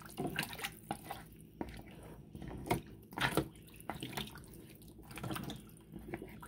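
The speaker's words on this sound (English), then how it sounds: "I think I'm going to still have to add just a little bit more water" Water is poured into a pot of turkey being prepared for canning, giving quiet, irregular splashes and drips close by, with faint intermittent bursts.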